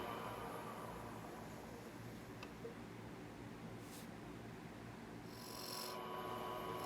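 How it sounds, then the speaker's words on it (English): A 3-point tool cuts V grooves into a broad wooden rim on a running woodturning lathe, making a continuous rough scraping rasp over the steady hum of the machine, moderately loud and close. "Using the same 3-point tool, here I am just putting the point in a little deeper and in essence making a series of simple V grooves along a broad rim."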